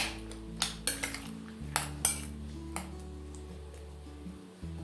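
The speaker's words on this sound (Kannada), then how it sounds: "ಇವಾಗ ಇದನ್ನ ಒಂದು ಸ್ಪೂನಲ್ಲಿ ಈ ರೀತಿಯಾಗಿ ಚೆನ್ನಾಗಿ ಕಲಿಸ್ಕೊಳ್ಳಿ" Metal spoon stirring cut raw banana (plantain) pieces in water, several sharp clinks and taps against the bowl in an irregular rhythm, close and fairly faint, over soft background music.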